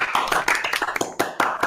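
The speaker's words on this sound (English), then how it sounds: "That's a clap." Sharp hand claps ring out in quick succession, several close, loud bursts spread across a second and a half, with no talking over them.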